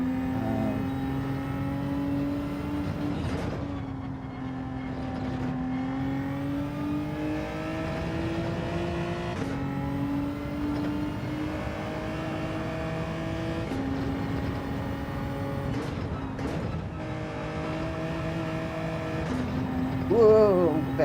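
Gr-class race car engine droning on track in Gran Turismo 7, a sustained whining tone rising and falling through gear changes, steady and moderately close, with occasional voice in the background.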